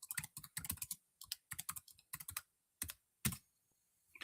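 Clacking keystrokes on a computer keyboard come in short bursts with gaps between them, then a single louder key press, close up and with no voices.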